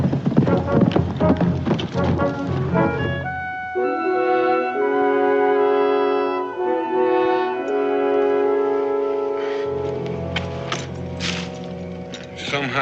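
Horses' hooves clip-clopping at a walk in a Daniel Boone frontier western scene, steady rhythmic clops under a swelling music score.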